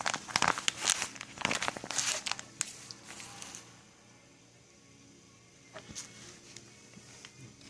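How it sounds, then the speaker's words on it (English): A dried, stretched rabbit hide with hair still on crackles and crinkles like stiff paper when handled, loud close bursts of crisp rustling that trail off into quiet, then a few more snaps near the end. "if y'all can hear it crackling, it's like paper almost"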